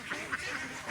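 A short burst of wild duck quacking from a large feeding flock, several overlapping calls at moderate distance.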